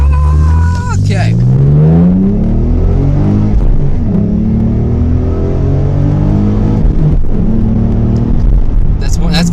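A Ford Mustang S550 engine revs hard and climbs through first and second gear, the pitch rising, dropping at the shift and rising again, loud and close throughout.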